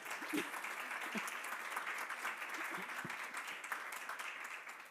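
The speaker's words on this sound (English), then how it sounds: "That needs a round of applause" An audience at an alumni association awards ceremony applauds in a steady, dense round of clapping that stays fairly soft and distant for the whole stretch.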